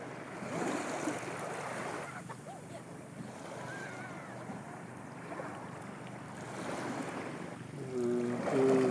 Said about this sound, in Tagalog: Basta ganyan pabalik-balik lang ng tubig.